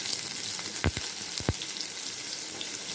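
Onion sizzling in hot oil in a pan with cumin and garlic, a constant close crackle broken by two pairs of dull clunks as the pan is stirred.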